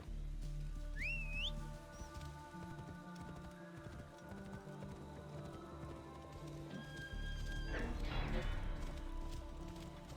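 In the video game Assassin's Creed Origins, a short whistle calls a horse, which whinnies and then gallops up with loud clip-clopping hoofbeats over game ambience.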